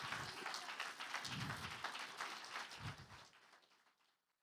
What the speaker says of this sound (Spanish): ¿Cuánto le dan un fuerte aplauso al Señor, hermano?